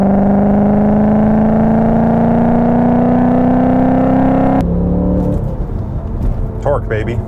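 An Audi S4 fitted with a Fast Intentions exhaust pulls hard in third gear, its loud close engine note climbing steadily in pitch for several seconds before cutting off abruptly, leaving rougher rumbling and a brief voice.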